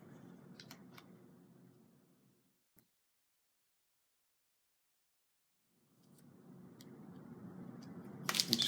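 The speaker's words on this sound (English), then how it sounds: "I'm cutting out the area of the tail and then pulling the tape off." Scissors snipping and tape being pulled off a surfboard tail during painting prep: soft close cutting and rustling, a long silent gap, then rustling resumes and ends in a louder ripping pull.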